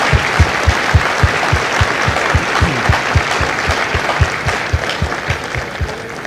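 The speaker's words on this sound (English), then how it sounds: "please join me in a well-deserved round of applause for the drill instructors and families of Alpha Company" An audience at a Marine Corps Recruit Depot San Diego graduation ceremony applauds for Alpha Company's drill instructors and families, sustained crowd clapping with a few sharp, rhythmic claps standing out near the front.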